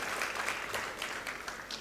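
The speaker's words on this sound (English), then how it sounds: "A round of applause again to Bwana PS." Brief burst of audience applause at a procurement and supply chain forum, a steady close clatter of many hands filling the moment.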